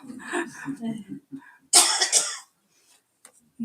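A single sharp cough bursts out close by after a stretch of murmured talk, followed by quiet.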